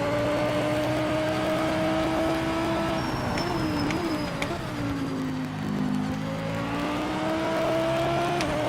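A baseline Audi race car in Project Motor Racing drives on, its engine holding a steady mid-pitched drone that dips and rises slightly as it runs, loud and continuous with no talk.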